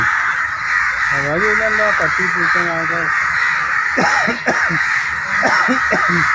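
Crows caw in repeated harsh bursts while swooping at people, loud and close, in two clusters of calls, with people talking over them.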